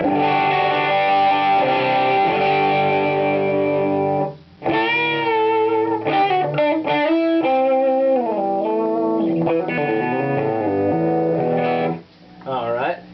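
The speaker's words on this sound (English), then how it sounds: "that's still a lot of distortion, but it sounds pretty good as a distortion pedal too" Heavily distorted electric guitar through a Matchless Hotbox tube preamp, playing sustained chords and bends, loud and saturated with a brief pause before resuming, no talking.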